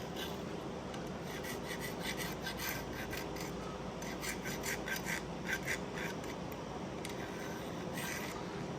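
Steady scraping and rubbing as calipers scribe layout lines onto a knife handle, a continuous dry rasping texture at close range with no talking.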